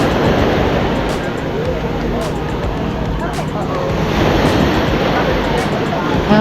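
Rough ocean waves surge continuously onto a Florida beach at Venice Beach, a broad roaring wash mixed with wind buffeting the microphone, with some louder pushes near the end.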